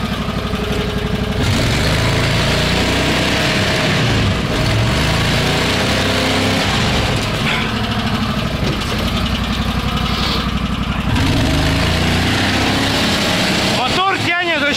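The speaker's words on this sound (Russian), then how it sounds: "Мотор тянет вообще" A Berkut snowmobile engine runs steadily and loud throughout, a continuous droning hum with slight shifts in pitch as it pulls, while people talk over it.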